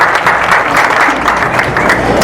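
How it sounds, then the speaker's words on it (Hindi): A large audience at a wellness plan seminar breaks into loud, sustained applause, dense clapping filling the hall from start to finish without a break. "जोरदार तालियां"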